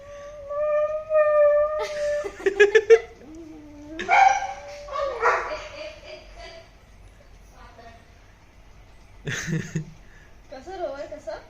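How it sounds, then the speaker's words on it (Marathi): A dog barks in a few short bursts, with pauses between, while people talk nearby. "फोटोवर कशाला भुंकत होता रे"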